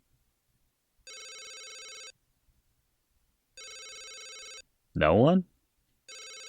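A telephone rings in the Leisure Suit Larry VGA game: three evenly spaced electronic trill bursts, each about a second long, with a short spoken question between the second and third rings.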